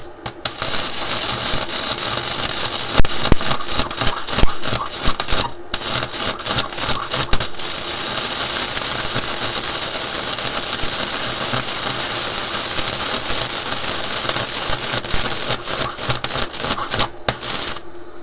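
Flux-cored wire welding with a Topshak multiprocess synergic 250A welder set to minimum voltage, a close, continuous harsh crackling buzz with rapid sputtering pops and brief pauses, no talking.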